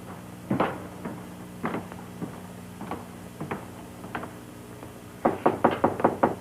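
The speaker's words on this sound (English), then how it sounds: "Better knock before you go in." Knuckles rap on an interior office door in a sequence of separate single knocks, then a quick burst of five or six louder raps near the end, close by in a quiet room.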